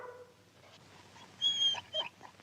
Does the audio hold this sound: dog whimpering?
yes